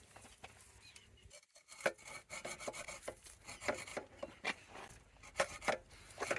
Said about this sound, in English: Good thing is this is aluminium, so it's pretty soft. So it didn't take long to cut through.